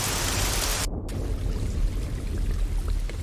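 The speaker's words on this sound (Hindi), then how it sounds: "अच्छा भीगो मत, चलो अंदर चलो। ऐसे बारिश में नहीं भीगते।" Steady rain pours down outdoors, a dense continuous hiss of falling water with scattered droplet patter, loud and close, with no voices.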